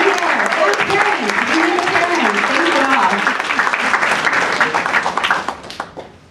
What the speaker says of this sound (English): So let's give a round of applause to everybody.